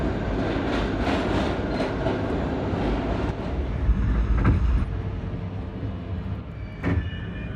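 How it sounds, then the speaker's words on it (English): An R38 A express subway train runs steadily with a loud, continuous rumble and rhythmic clatter of wheels over track joints, a sharper clack standing out near the end. "This is a 124th Street bound A express train."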